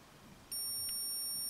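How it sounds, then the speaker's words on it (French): A multimeter in continuity-test mode gives a steady, high electronic beep that starts abruptly and holds unbroken, fairly quiet against a faint room background. "on a entendu un bip pour dire il y a continuité, donc le courant peut passer"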